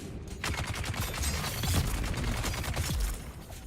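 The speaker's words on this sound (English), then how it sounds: "they're just gonna shoot me" Enemy fire rattles in the Armored Core 6 video game, with dense rapid bursts of shots and mechanical clatter running continuously, loud and close, with no talking.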